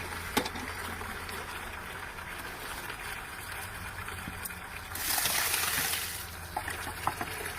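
Pinot Noir grape juice flows into a bucket during winemaking processing, a steady wet trickle over a low mechanical hum, swelling into a louder, rushing gush for about a second before settling back to the quieter flow.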